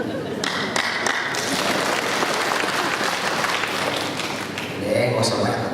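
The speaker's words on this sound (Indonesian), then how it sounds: "Nggak usah banyak tepuk tangan." An audience at a gathering in a regency office gives sustained, dense applause that fills the room, continuing steadily with a voice heard faintly beneath it.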